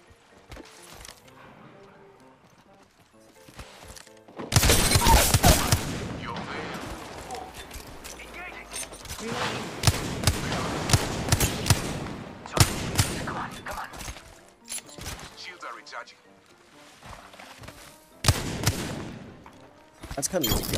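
Apex Legends gunfire from a Wingman pistol and Mastiff shotgun: loud bursts of shots come in clusters over a noisy game mix, with stretches of quieter action and voices talking between them.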